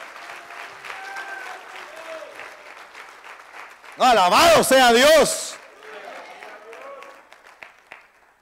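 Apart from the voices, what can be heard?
loud applause in church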